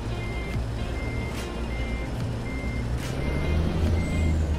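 In American Truck Simulator, a modded Haterbilt truck with a Cummins engine backs up while its reversing alarm gives a slow, regular series of beeps over a steady low engine rumble, close by, with no talk.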